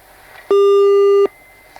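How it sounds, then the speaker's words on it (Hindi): A telephone busy tone after a call is cut off: one loud, steady electronic beep lasting under a second, clean and alone, with faint room noise before and after. "विनय सिंह जी ने फोन कट कर दिया है"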